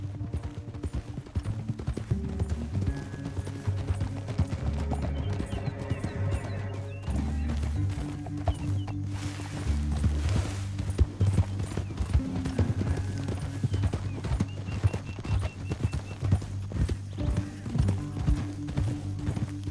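Rapid, rhythmic hoofbeats of galloping horses in Red Dead Redemption 2 pound continuously under a droning musical score, with occasional crashes and a brief whinny.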